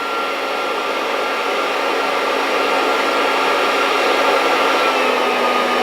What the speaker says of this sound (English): Now I'm going to drop the fan down.